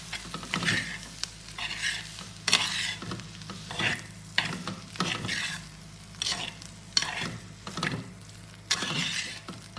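Green gram being stirred through a thoran stir-fry in a pan, a spoon scraping and turning the mixture amid a soft steady sizzle; close and fairly quiet, with no speech.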